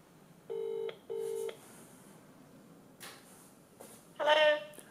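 DTMF dialing tones on a Samsung Gear S smartwatch paired by Bluetooth: two short steady beeps near the start, a faint click, then a brief louder ringing or connecting tone at the end, in a quiet room.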